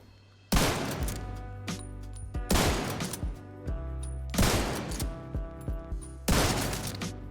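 Marksman rifle fired in the video game The Division 2, four sharp, loud, close shots spaced about two seconds apart, each followed by a short ringing tail and mechanical clicks, with no talk.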